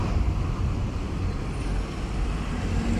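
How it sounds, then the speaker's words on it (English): Busy city road traffic in Yekaterinburg, Russia, a steady dense roar of cars, buses and trucks passing close by, with continuous low rumble and a faint hiss of air brakes, no voices. "The traffic is busy."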